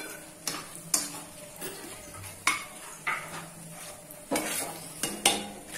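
Bay leaf and cinnamon sputter in hot white oil in a pan for a paneer kofta curry, a soft sizzle broken by sharp clinks and scrapes of a spoon stirring against the metal, close and unhurried.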